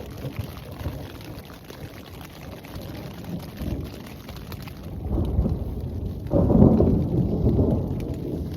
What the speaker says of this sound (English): The thunder is just crazy.